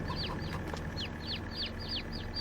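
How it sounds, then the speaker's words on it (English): Chickens in a shed with an open pasture on a Central European farm map in Farming Simulator 22, giving a steady run of high repeated clucks and chirps over a constant low ambient hum. "I can hear chickens."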